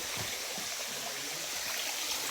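A small hidden waterfall at Kadam Giri splashes and trickles in a steady, soft rush of falling water, alone and fairly faint.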